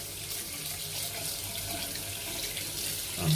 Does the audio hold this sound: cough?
no